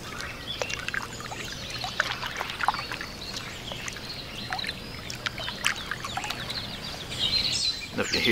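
Carp splash irregularly in a lake, sloshing water breaking the surface again and again, with birds calling in the background.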